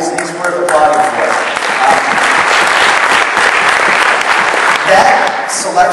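Audience at a software user conference applauding, dense sustained clapping from a sizable crowd, loud and continuous, with a voice briefly audible at the start.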